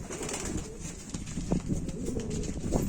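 Male pigeons of short-beaked fancy breeds cooing softly in a loft, low repeated coos over a steady background hum, with a few brief rustles and wing movements.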